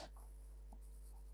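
A pencil traces an ellipse along French curves on a drafting sheet, a faint, close scratching stroke over a steady low hum.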